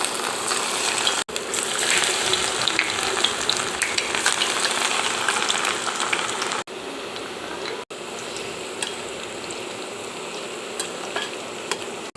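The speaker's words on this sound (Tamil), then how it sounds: "எண்ணெய் சூடாகிடுச்சு. சில்லி ஒன்றா போட்டு எடுத்துடலாங்க." Steady crackling sizzle of cauliflower frying in hot oil for cauliflower chilli, loud and continuous with a few brief breaks, no voices.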